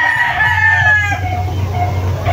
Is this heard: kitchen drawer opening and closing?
no